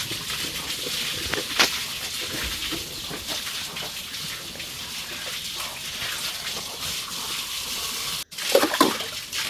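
Water splashing and gushing while a cow is bathed on a farm by a pond, a steady close wash of pouring water with brief louder splashes near the end.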